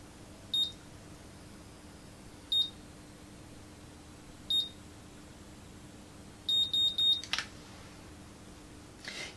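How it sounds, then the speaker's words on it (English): A Babyliss Curl Secret hair curler gives short, sharp electronic beeps, single ones spaced about two seconds apart and then a quick cluster of four, alone in a quiet room. "If you try and put too much in, it just sort of beeps immediately"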